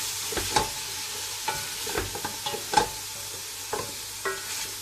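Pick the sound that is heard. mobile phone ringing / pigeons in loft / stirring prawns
stirring prawns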